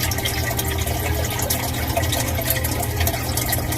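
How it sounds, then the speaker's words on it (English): Water fills the chamber of a newly installed indoor sump drainage system fed from the footer drain tile, a steady, dense wash of pouring and rushing flow that stays constant and fairly loud throughout. "You can hear it fill in the chamber."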